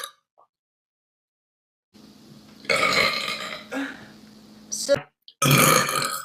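A woman lets out two loud, drawn-out burps in quick succession, the second deeper and longer, between bits of nearby talking.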